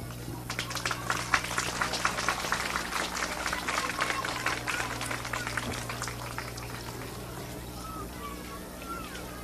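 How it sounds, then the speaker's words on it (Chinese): Audience applause at a wind band concert, a dense crackle of clapping that fills most of the stretch and then thins out, with a steady low hum beneath. "我们以掌声欢迎。"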